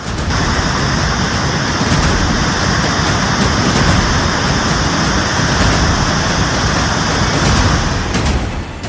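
Dense, steady downpour of heavy mountain rain in Himachal hissing loudly and evenly throughout, a constant wash of heavy rain with no voices.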